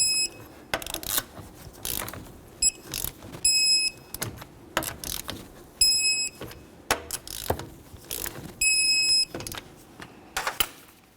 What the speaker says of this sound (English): let's torque these to 76 in a crisscross manner